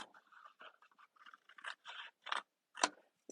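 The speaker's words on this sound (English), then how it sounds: "I'm going to angle cut and remove" Scissors snip through cardstock, angle-cutting away a section to leave a glue tab, in a series of short quiet crunching cuts spaced irregularly and growing slightly sharper toward the end.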